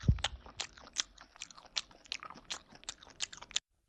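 Close, crisp crunching from biting and chewing a MrBeast Deez Nuts crunchy chocolate bar, with a quick run of sharp, uneven crunches that repeat steadily with no talking.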